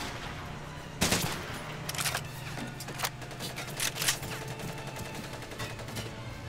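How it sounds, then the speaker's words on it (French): Bursts of gunfire crack through a Pacific island battle in Medal of Honor: Pacific Assault, with a loud shot at the start, then repeated irregular volleys and sharp reports over steady rumbling background noise. "Et en plus, on prend des balles."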